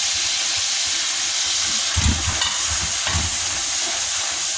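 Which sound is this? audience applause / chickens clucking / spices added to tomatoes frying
spices added to tomatoes frying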